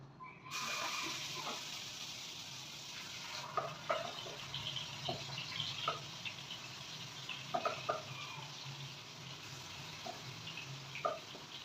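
Chicken marinated in lemon juice and salt fries in hot oil over a lowered flame. A steady, soft sizzling hiss runs throughout, with scattered faint pops and spatters and no talking.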